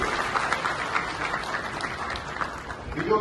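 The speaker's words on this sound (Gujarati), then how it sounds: "કામગીરી બધા તાળીઓના ગડગડાટથી વધાવી રહી છે" An audience at the Vadodara dairy's annual general meeting, held at a Dada Bhagwan temple, breaks into steady applause, a continuous crackle of many hands with faint voices underneath.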